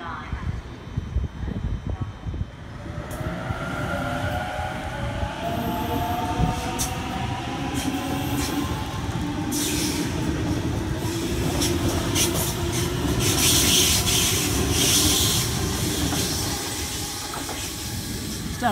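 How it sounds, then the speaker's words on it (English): A Sydney Trains Waratah passenger train rumbles and hisses through Redfern Station, its wheels and brakes loud and close, with a rising metallic whine and occasional voices. "That's a busy train."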